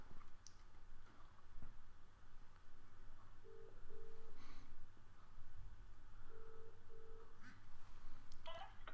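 A faint double ringback tone of a telephone call comes through an earpiece, with two short paired rings spaced a few seconds apart over a low background hum.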